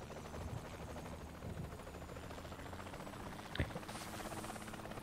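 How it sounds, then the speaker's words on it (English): A helicopter in the video game Saints Row 3 drones steadily with a faint rotor chop, low and fairly quiet throughout, with one brief sharp knock partway through. "Can they at least put you in the helicopter?"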